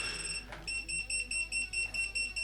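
Rapid electronic beeping from a CarbonFly 80 FPV drone receiver repeats steadily in short high-pitched bursts, loud and close, with a brief break near the start.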